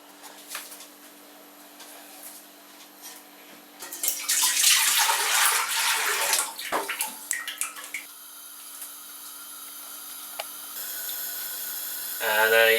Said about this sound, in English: I'm going to pour the liquid back into here